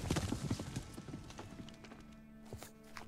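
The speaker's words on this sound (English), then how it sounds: "Saddle horse." Rhythmic clip-clop of a saddled horse's hooves in the western survival video game Above Snakes, a steady quick gait close by with a faint tonal game hum underneath.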